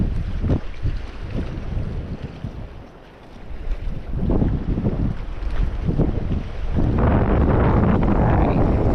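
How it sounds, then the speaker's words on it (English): Heavy wind roars and buffets the microphone while paddling a boat on open water toward Horseshoe Bend, loud and gusty throughout, with surging bursts and faint water sounds beneath. "But there's so much wind"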